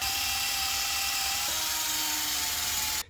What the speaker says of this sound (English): And I grab a hold of my drill.